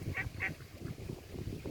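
A few nasal duck quacks in quick succession, fairly close, over a low background rumble at a small lake.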